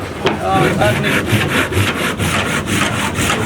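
A hand saw cuts through wood at a furniture workshop in steady, loud back-and-forth rasping strokes, about two per second, close up and with no talking.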